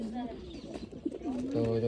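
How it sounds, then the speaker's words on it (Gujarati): A pigeon perched close by gives soft, low coos in short rolling phrases, moderately loud and near, with a few rising and falling notes toward the end. "તો જો મિત્રો આવી રીતના કબૂતર બેઠું છે"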